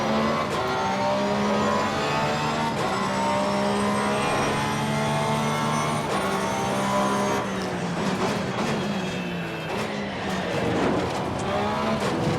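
A race car in Assetto Corsa Competizione, driven at night at Zolder, roars loudly with a high engine drone that rises and falls as the throttle is worked through a corner, with gear-change blips later on.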